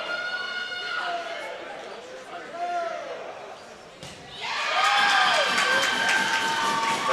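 A crowd cheers at a women's bronze medal dodgeball match at the 2019 Canadian national championship, with shouting voices that swell into louder, sustained cheering partway through over the hum of the gym.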